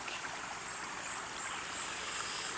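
Clear water rushes steadily in a mountain stream, a continuous close hiss and babble with no pauses and no voices.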